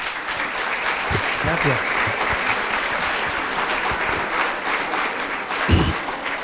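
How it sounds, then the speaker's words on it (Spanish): Audience applause at a cybersecurity event, a steady dense clapping from a crowd that holds throughout, with a voice speaking briefly near the end. "pues un fuerte aplauso para Salvador"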